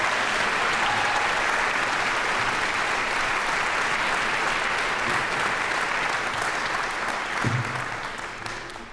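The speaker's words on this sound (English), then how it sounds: "So give yourselves a round of applause" A crowd at the Peabody Conservatory undergraduate graduation ceremony claps in a thick, sustained round of applause that stays level and then tapers slightly at the very end.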